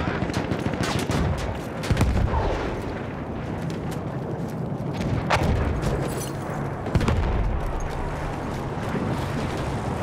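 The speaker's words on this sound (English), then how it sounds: "Enemy artillery!" Enemy artillery barrage in the World War I shooter Battlefield 1, heavy booms and rumbling blasts layered with crackling gunfire, loud and continuous with a couple of stronger impacts.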